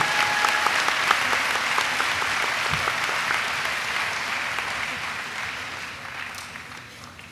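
An audience at a college commencement ceremony for elementary and early childhood education graduates applauds in a dense, sustained wash of clapping that holds steady, then gradually fades toward the end.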